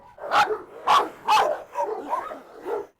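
Agitated dogs, a young Rottweiler among them, bark in a rapid series of six loud, close barks, the later ones rougher and more strained, with no talking.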